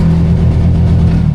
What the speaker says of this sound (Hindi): इसमें जो लिमिटर दिया गया है इसलिए वो आवाज़ करता है। अभी लिमिटर आ गया